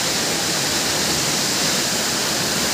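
Abungan Falls in Dingalan, Aurora roars as a dense, loud, unbroken rush of falling water close by, with no other sounds.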